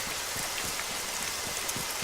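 Steady rain falling outdoors, a dense even hiss of drops striking surfaces, with scattered louder patters; no voices.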